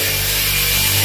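A brief burst of harsh, continuous sawing noise, loud and close indoors during home renovation, with a steady mechanical hum underneath.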